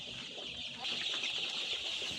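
Twelve-day-old chickens clucking and cheeping in a flock, a continuous chorus of small bird calls nearby that grows a little louder midway.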